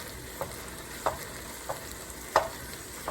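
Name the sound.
ground meat (80-20) browning in a pan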